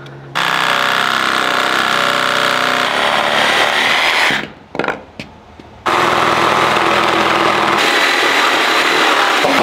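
A Sawzall reciprocating saw cuts through barn framing, a loud, close, buzzing rasp that runs steadily, breaks off for about a second in a few brief stutters, then resumes at full volume.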